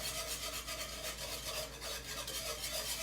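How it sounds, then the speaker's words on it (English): A whisk scrapes steadily through a thickening flour roux in a pan on the stove, a continuous close rasping stir at low volume. "Now I can tell just by whisking that we're starting to thicken."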